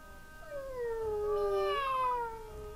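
A cat meows in Layton's Mystery Journey, one drawn-out, clear call with a rising and falling pitch, heard alone and close.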